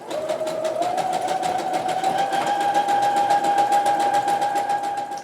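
A sewing machine zigzag stitching over the elastic edge of fabric briefs, running steadily and close with a fast, even mechanical rattle and a constant whirring motor hum throughout.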